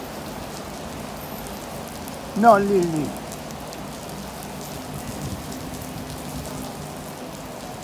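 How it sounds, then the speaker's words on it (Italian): Rain falls as a steady, even patter throughout, with one brief voice speaking over it near the middle. "piove."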